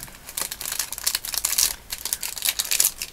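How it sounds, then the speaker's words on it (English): Crinkly plastic packaging from a craft supply haul rustles and crumples up close in uneven bursts, steady and fairly quiet throughout, with no talking. "there's too much rustling going on"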